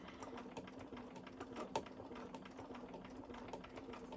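A sewing machine with a free motion foot runs at its slowest speed, giving a steady, quiet mechanical hum with soft, regular clicking stitches and no talking.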